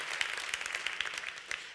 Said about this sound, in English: So a round of applause for everybody involved in this very courageous decision.